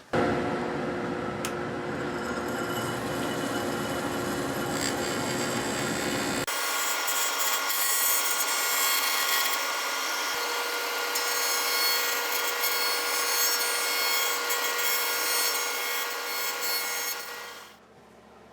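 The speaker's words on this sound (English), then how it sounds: "I'm going to start by turning it down to 9/16, and then we'll inch up on that hole" Walnut pen blank being turned down on a wood lathe, a steady continuous scraping and rubbing hiss of the tool cutting wood, loud and close, with the motor hum dropping out partway before the sound cuts off at the end.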